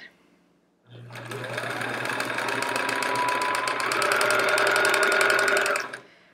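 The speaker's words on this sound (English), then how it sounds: "let's just sew down the edge" A sewing machine runs continuously for about five seconds, sewing down the edge of a quilt, with a close, loud, even whir that speeds up slightly before stopping.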